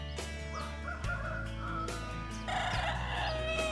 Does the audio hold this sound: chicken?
yes